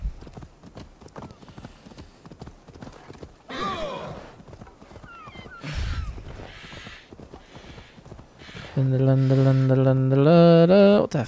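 Horse hooves clip-clop steadily in the video game Assassin's Creed Valhalla, a close rhythmic trot with a neigh partway through and a loud sustained tonal game sound near the end.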